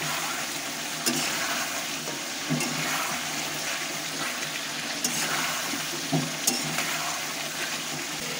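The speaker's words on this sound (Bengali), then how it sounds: "আমি তো গ্যাসে মাংসটা রান্না করছি" Meat browning in a pot on a gas stove gives a steady sizzling hiss, with a few soft stirring clunks scattered through it. No one speaks.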